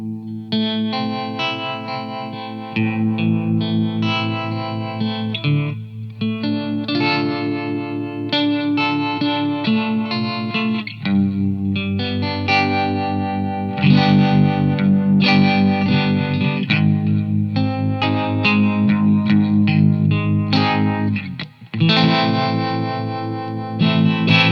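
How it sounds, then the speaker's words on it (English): Electric guitar through a Supro-style tremolo pedal with saturation, simulating a Supro amplifier's tremolo circuit pushing the power section; pulsing, driven chords ring continuously, loud and alone, with the volume throbbing rhythmically. "simulates the tremolo circuit in a Supro amplifier pushing the power section"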